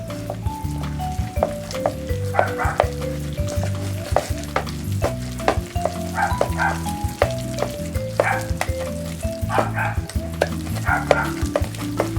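Corn fritter batter of flour and canned corn stirred in a bowl, a steady run of soft wet scraping strokes in close, even rhythm with no talking.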